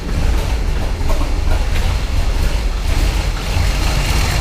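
A Pontiac Trans-Am running Microsquirt engine management idles very low, around 300-400 RPM, after fixing an out-of-control idle. It gives a close, loud, steady low rumble with a faint rhythmic pulse and no talking.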